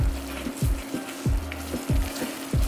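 Wine sizzling and evaporating in a hot pan of pea risotto with chicken and parmesan, a steady loud fry with a low hum beneath and rhythmic stirring scrapes about every third of a second.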